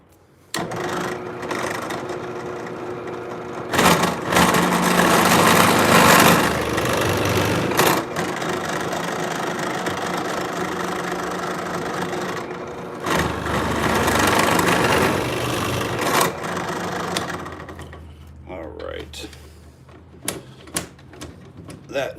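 A blower-vacuum engine runs on its blow setting, a steady, loud motor drone that surges louder twice before dropping off near the end, with no talking.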